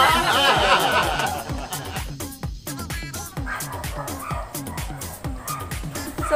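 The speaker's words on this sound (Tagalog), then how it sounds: "Ba't ba ang ingay ng mga aso?" Several dogs bark and yip rapidly and continuously, close and loud, with some whimpering mixed in.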